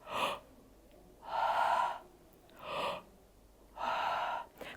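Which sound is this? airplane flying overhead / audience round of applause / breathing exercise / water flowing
breathing exercise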